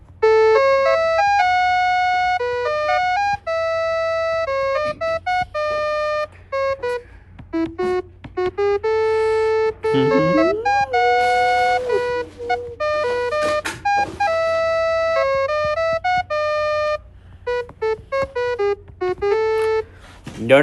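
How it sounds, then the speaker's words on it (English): A short synthesized melody in the Lydian mode plays bright, bell-like tones, some held and some quick, over a faint low hum for about twenty seconds, with a few gliding notes near the middle. "I have a short melody in Lydian that I'm going to share with you, just as an example of how this Lydian mode will sound."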